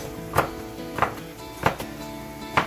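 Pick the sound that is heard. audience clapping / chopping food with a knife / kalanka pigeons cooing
chopping food with a knife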